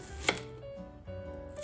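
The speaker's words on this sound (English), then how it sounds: "Dice shallots and mince the garlic." A kitchen knife taps a cutting board while shallots are diced and garlic minced for Pad Thai, a close knock followed by softer sounds, without speech.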